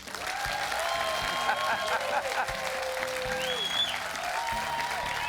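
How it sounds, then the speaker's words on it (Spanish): An outdoor studio audience on the Caso Cerrado set in Huntington Park, Los Angeles County, breaks into dense, sustained applause, with a host's voice carrying over the crowd. "¡Dense un aplauso!"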